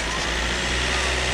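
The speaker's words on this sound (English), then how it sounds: "Another car going past." A car drives past on a street beside an empty building, a loud, broad roar of road noise with a low engine rumble, steady and close throughout.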